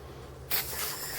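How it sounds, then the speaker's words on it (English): Spray nozzle hissing onto home air conditioner coils from inside the unit during a spring tune-up, a sudden steady broadband spray starting midway and continuing alone at moderate level over a low hum. "I start this part of the procedure by spraying the coils from the inside."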